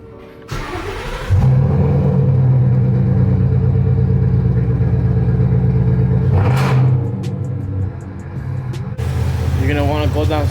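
A car engine cranks and catches, then settles into a loud steady rumble with a brief rev partway through, heard up close in a home garage during an oil change; a voice speaks near the end.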